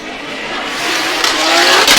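Formula Drift cars tear down the stretch at Ebisu in Japan, a loud, sustained engine roar with tire hiss that swells and rises in pitch as they approach.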